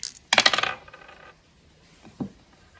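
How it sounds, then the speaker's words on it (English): Dice rolled for a bingo-style board game clatter onto a hard surface in a quick burst of rattling hits, then one small final tap a moment later, close and alone. "let's go ahead and roll the dice and see what we get"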